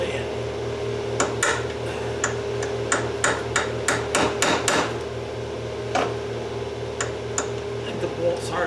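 A hammer strikes a punch set against a broken, rusted bolt in a tight spot. Sharp metallic blows come in irregular clusters, close and ringing, over a constant low hum.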